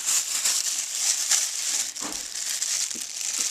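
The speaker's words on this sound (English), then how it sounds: "And then we're just going to cover it with some plastic." A plastic shower cap crinkles and rustles close by as it is stretched over a bowl of no-knead bread dough, a continuous crackly texture with a few louder crumples and no speech.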